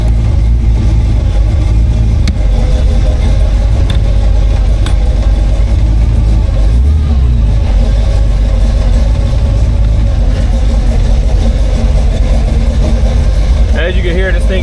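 Engine of a 1934 Ford with no top running steadily on a test drive, a loud continuous low rumble throughout with a faint shift in tone near the end.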